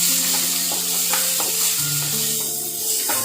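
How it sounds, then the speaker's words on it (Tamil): Sliced onions sizzle steadily as they fry in oil with spices in a pan, with occasional stirring scrapes and a constant hiss throughout. "மசாலா பொரிஞ்சதும் நம்ம நறுக்கி வச்சுருக்கிற வெங்காயத்தை சேர்த்துக்கலாங்க"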